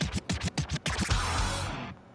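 A run of quick chiming check-off tones marks completed goals at the end of a video game run, about six evenly spaced blips followed by a brighter sustained flourish, loud and close with no talk.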